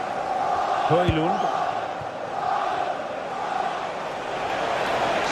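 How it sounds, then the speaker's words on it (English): A stadium crowd in a football video game roars and chants steadily throughout, a dense wash of cheering with a commentator's voice briefly heard over it. "there's not been much to cheer about for a while, but they're certainly getting behind them here"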